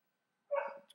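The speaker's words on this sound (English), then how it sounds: "if you hear the dog in the background" A single dog bark rings out once in the background, sharp at first and then trailing off, fairly faint and heard alone with no talking.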